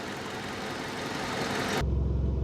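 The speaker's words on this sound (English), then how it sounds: "the fan down there that cools the radiator, that's come on as well" Nissan Micra K11 engine running in a driveway with its radiator cooling fan on: a steady whooshing hum that shifts partway through into a louder, low rumbling engine tone, no talking.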